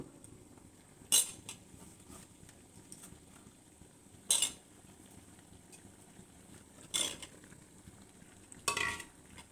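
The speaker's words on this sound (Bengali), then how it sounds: "এখন এর মধ্যে কেটে রাখা নতুন আলুগুলো দিয়ে দিব" Cut new potatoes are dropped into a pot of simmering chicken curry, giving four brief separate clattering splashes spaced a few seconds apart over a quiet, low kitchen background.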